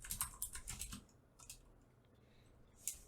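Quick bursts of keystrokes clatter on a computer keyboard, a rapid run of clicks, then a pause and a few isolated taps, close and fairly quiet.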